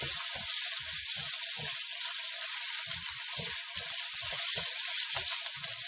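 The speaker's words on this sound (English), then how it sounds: "I'm going to saute this to bring out some of these herbs and chilies." Lemongrass, ginger, herbs and chilies sauté in a hot pan with a steady, close sizzle and scattered crackles and pops throughout, with no talking.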